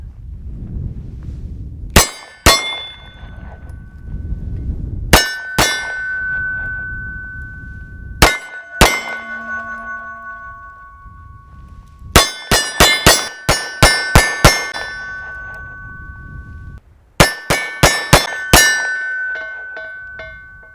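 Pistol rounds from a CZ 75 PCR 9mm ring a round steel gong target at about 12 yards: sharp, loud metallic clangs with lingering ring, fired singly and then in quick strings of several hits.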